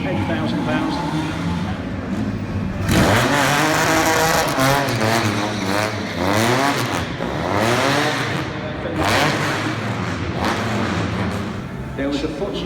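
A Porsche 356B Carrera Abarth GTL with a four-cam Carrera engine revs at a car show, rising and falling engine pitch sweeping repeatedly, loud and close, mixed with crowd noise and talk.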